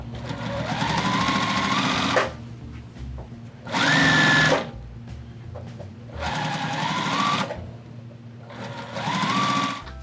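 A sewing machine stitches fabric for a scrappy homemade dog bed. It whirs loudly in four separate runs of a couple of seconds each, with short pauses between them as the fabric is turned.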